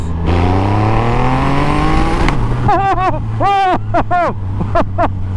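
Supercharged Triumph Rocket 3 TTS motorcycle engine revving up loudly and close, with a rising induction roar for about two seconds, then a rumbling idle as someone talks over it.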